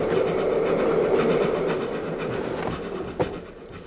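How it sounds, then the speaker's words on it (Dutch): A train runs on rails as a radio drama sound effect, a steady rumbling roll with faint rhythmic clatter that eases slightly toward the end, punctuated by one sharp jolt near the close, with no voices. "De trein schokte erg op dat moment."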